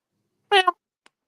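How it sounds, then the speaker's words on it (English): One cat gives a single short, clear meow that rises and falls. A faint tiny click follows, then silence. "No, that's a cat."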